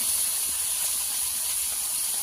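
Dried fish fries in hot oil in a pan, giving a loud continuous sizzling hiss that holds steady throughout, close and with no talking.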